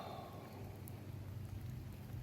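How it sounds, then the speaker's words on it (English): Rain falls steadily outdoors as a dense, even hiss with a low rumble underneath, with no voices. "It's raining, son."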